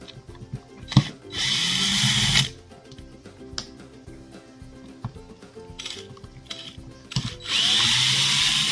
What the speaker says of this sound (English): we'll zip them out with my little gun there, make things go a little faster